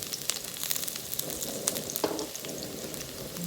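Garlic sizzles steadily in hot oil in a home kitchen pan while adobong kangkong is cooked, a close, continuous frying crackle with scattered sharp pops and no talking.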